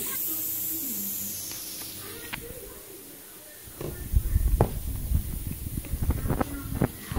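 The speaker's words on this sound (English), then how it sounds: "I spray my cake in order for the wine and rum." A soft hiss of wine and rum being sprayed onto a Jamaican Christmas fruit cake fades out, followed by close clattering and rustling handling noises.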